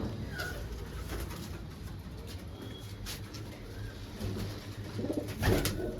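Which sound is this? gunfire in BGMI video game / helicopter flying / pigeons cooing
pigeons cooing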